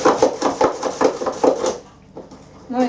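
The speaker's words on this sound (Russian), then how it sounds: "Натираем ее на терке, как для морковки по-корейски." A carrot is rubbed on a hand grater in a kitchen, Korean-carrot style: about five rhythmic, close rasping strokes, then a brief quiet pause before another scrape begins.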